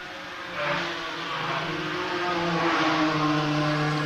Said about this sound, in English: They do sound fantastic, the BMWs.